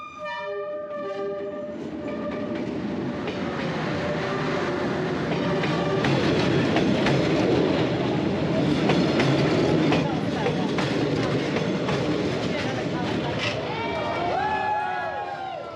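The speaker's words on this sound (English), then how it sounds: "the local trains pass by within inches of people enjoying a refreshing beverage" A local train in Vietnam rumbles past at close range beside trackside cafés, horn sounding at the start and again near the end, with loud rolling clatter and voices in the background.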